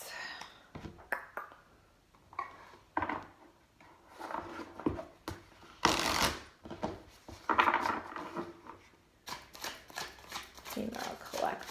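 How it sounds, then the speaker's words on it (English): A deck of oracle cards is shuffled by hand close by, with irregular bursts of papery rustling and soft slaps. Quieter gaps separate the bursts. "let's get some oracle cards"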